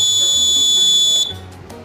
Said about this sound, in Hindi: अगर अभी हम स्विच को ऑन करते हैं तो हमारा बजर फिर से बजेगा